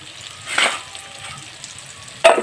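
Chicken pieces with salt, turmeric and chilli powder fry in a pan with a low, quiet sizzle, broken by two short bursts of hissing and scraping as the pieces are moved.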